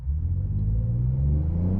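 Low, steady engine rumble from a 2024 Ford Ranger Raptor bakkie heard from inside the cab with the window down, a deep continuous hum that rises slightly in pitch as it pulls along.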